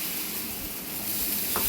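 Mustard seeds spluttering in hot oil for a Kerala tempering to go with corn dosa and leaf chutney, a steady close sizzle with no voices.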